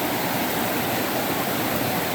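A creek swollen after heavy overnight rain rushes steadily past, a dense unbroken roar of flowing water close by, with no voices.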